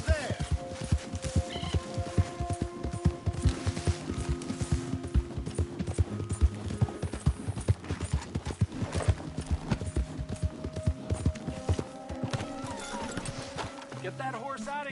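Horse hooves clip-clop at a steady walking rhythm throughout, with a voice speaking briefly over them, in the video game Red Dead Redemption 2.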